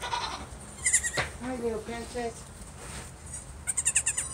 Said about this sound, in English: Hi, little goat baby.